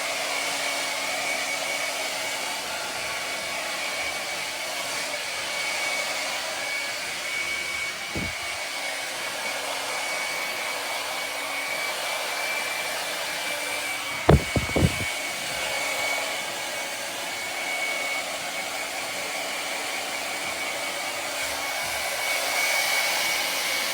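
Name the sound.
hair dryer blowing hair dry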